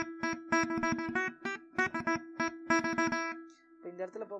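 A veena is played with a rapid run of sharply plucked notes and sustained resonant strings, the phrases coming in quick clusters and then a brief pause before a softer final group of plucks.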